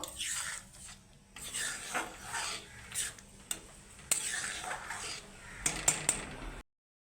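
A spoon scrapes and rasps against a pan as spices and dried fenugreek leaves are stirred in, with irregular scraping strokes and a few sharp metallic clinks, close and fairly quiet.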